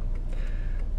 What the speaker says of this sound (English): that's a Facebook pop-up note